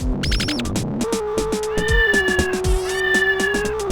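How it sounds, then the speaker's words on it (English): Cartoonish meowing from a cat in an Atari Jaguar racing video game, a string of loud synthetic meows and yowls over steady game music and engine hum. "There's even a cat chasing a mouse throughout the level, and driving into either of them will cause them to make a sound."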